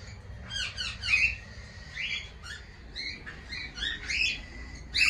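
Caged breeding-colony parrots, including sun conures and cockatiels, squawk and chirp in repeated bursts that overlap one another, with no voices and a steady low rumble underneath.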